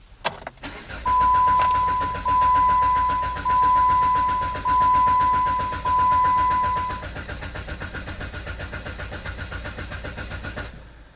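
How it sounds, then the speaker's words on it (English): A car engine cranks over in several long, steady starter bursts with short pauses between, then catches and settles into a rapid, even idle. "you hit the key into the start position, the engine cranks over"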